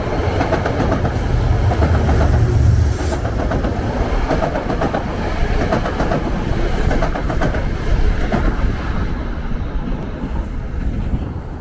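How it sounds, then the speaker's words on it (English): A commuter train from Poughkeepsie rumbles past loudly, its wheels clattering in a steady clickety-clack rhythm that fades slightly toward the end. No one speaks. "This is a train from Poughkeepsie."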